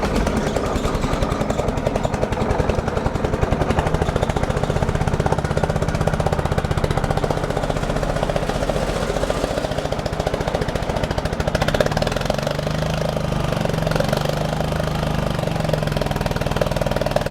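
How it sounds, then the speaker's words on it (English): An old air compressor runs steadily and loudly beside a 70-year-old Allis Chalmers road grader, giving a continuous, rough, chugging mechanical drone that holds without pause throughout. "We've got the old air compressor going, but we don't seem to have a real lot of pressure"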